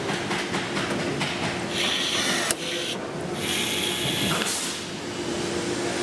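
A cordless electric blind riveting tool pulls aircraft rivets, giving a steady motor whir in repeated bursts with a sharp snap as one rivet breaks, close up with no talking.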